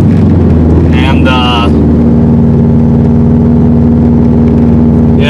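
2005 Subaru WRX STi engine drones loudly from inside the cabin while driving, a steady low hum with someone speaking briefly over it.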